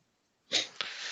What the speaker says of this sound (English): do you have any sneezes you want to let out of your system?